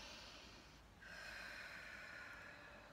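A steady, quiet inhalation drawn in during a qi breathing exercise for the lungs, a soft airy rush that strengthens after the first second and holds for about two seconds, with no talking.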